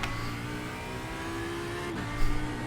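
An Audi race car in the iRacing sim game revs hard and near, a dense high-pitched electronic-edged engine whine with a shift around the two-second mark, and no speech.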